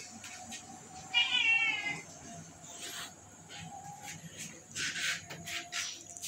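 A cat meowing indoors, one clear drawn-out meow near the start followed by softer, shorter cries and faint rustling in a quiet room.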